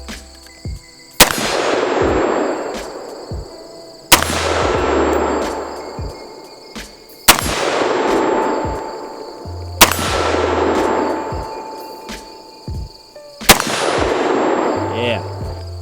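Five loud, concussive shots from a short-barrel rifle called the "Atom Smasher", each a sharp crack followed by a long fading boom, spaced a few seconds apart at an outdoor range.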